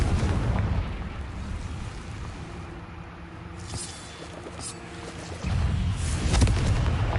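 A fiery explosive spell from a Hogwarts Legacy fight sends out low rumbling booms, with a heavy blast at the start and another near the end over ongoing battle rumble.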